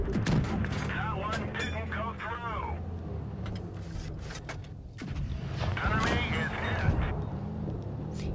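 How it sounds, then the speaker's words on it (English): Tank cannon shots in World of Tanks Blitz during British tank gameplay, several booming blasts and clanks mixed with engine rumble under steady game noise while someone talks over it. "Heat shell that he fired missed."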